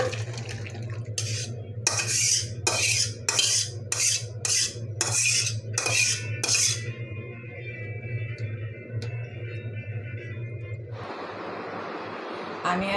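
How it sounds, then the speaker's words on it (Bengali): Rohu fish curry with eggplant and potato, cooked in spicy oil, being scooped out of a pan with a utensil: about a dozen quick, rhythmic scrapes and clinks over a low hum, then a softer hiss. "আমি এখন ঢেলে নেব তরকারিটা।"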